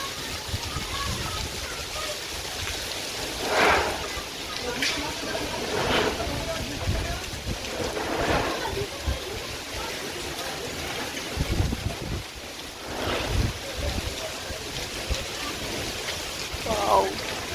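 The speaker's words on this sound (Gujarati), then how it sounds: "ગાજવીજ સંઘાતે એકદમ ફૂલ વરસાદ આવે છે" Heavy winter rain with hail and thunder pours steadily in Ranip, Ahmedabad, with gusty rushes of wind, while a person talks intermittently over it.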